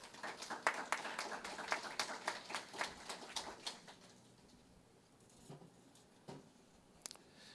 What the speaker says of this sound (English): Please give Shawn a big round of applause.